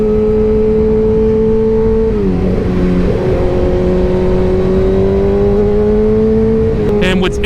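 A Kawasaki Ninja ZX6R 600cc sport motorcycle engine, revving up to 16,000 RPM, holds a loud, steady whine, dips briefly and climbs back to a sustained high pitch. It stays close and continuous throughout.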